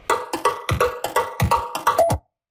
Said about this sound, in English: it's basically just doing like a delay